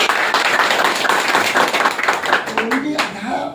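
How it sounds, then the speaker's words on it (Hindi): Audience applause at a motivational speech event, a dense, steady wash of many hands clapping close and loud, with voices emerging and tapering near the end. "ताली दीजिए।"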